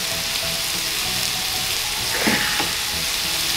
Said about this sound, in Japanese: 皮目重点的に焼いてあげてくださいね。